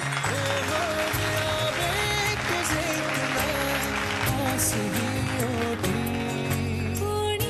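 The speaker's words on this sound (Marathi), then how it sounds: "त्यांच्यासाठी जोरदार टाळ्या वाजूयात" An audience at a Mangalagaur women's festival event applauds, a continuous crowd clapping that runs steadily throughout alongside loud stage music.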